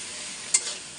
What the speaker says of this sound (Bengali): সুন্দর করে আর একটু ভাজলেন।